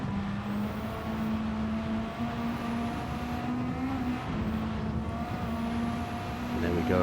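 Car in Gran Turismo 7 driven on a dirt track, a steady engine tone rising and falling slightly over continuous gravelly road noise, sustained throughout with someone talking over it.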